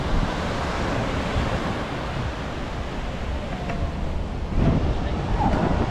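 Ocean surf rolls onto the beach at Canggu, Bali, a constant broad wash of breaking waves mixed with wind rumbling across the microphone, swelling slightly louder near the end.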